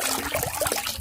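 Half a mug of fertilizer water is poured onto a potted chrysanthemum, making a short, close, gurgling splash of running liquid.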